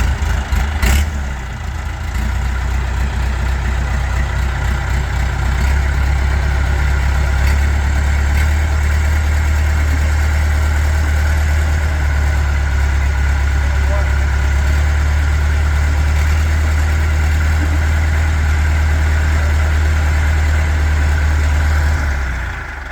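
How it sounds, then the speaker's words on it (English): A heavy Bombardier Muskeg tractor engine starts up and settles into a loud, steady low rumbling idle that continues without break. "they're just going to fire up this Muskeg tractor"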